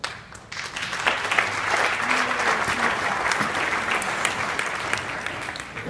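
Sustained audience applause fills a gala hall, a dense, steady wash of many hands clapping at close range with no voices on top, holding level for several seconds after a brief quieter start.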